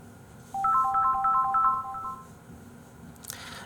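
Ringtone of an incoming phone call, a short burst of repeated bright electronic melodic beeps lasting under two seconds, loud and clear with no talk over it.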